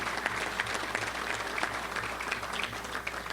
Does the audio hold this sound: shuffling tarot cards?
no